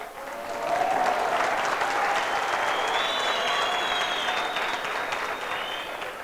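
Audience applause at a marketing and networking talk: a dense, sustained wash of clapping from a sizeable crowd that swells quickly and holds steady for several seconds, with faint voices and whistles mixed in.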